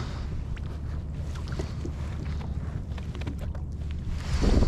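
Paddle strokes from a kayak on open water, heard under steady wind and microphone buffeting, with faint splashes and a gust swelling near the end.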